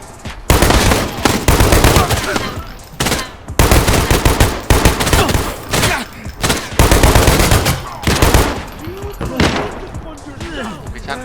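Rapid bursts of automatic gunfire in the shooter game Arena Breakout: Infinite, loud and close, firing in repeated volleys separated by brief gaps, with players talking over the shots.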